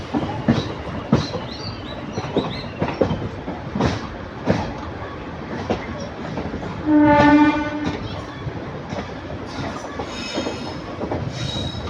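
A train at Karaikal Junction railway station on the Nagapattinam–Karaikal line: rumbling wheels with rhythmic rail clicks and squeals, and a horn blast partway through, fairly loud and nearby.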